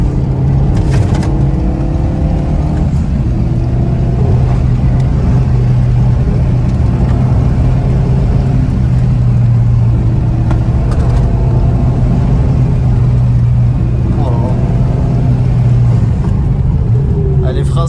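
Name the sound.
Renault Megane 3 RS stage 1 car accelerating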